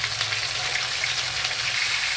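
Fish frying in oil for a Bengali fish curry, alongside potato pieces, gives a steady, dense sizzle with fine crackle, close and unbroken, with no talk over it.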